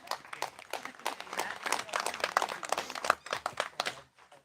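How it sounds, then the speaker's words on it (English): An audience applauds a man at an outdoor gathering, with quick, uneven claps from a small group filling the moment and a murmur of talk underneath. "Give him a round of applause,"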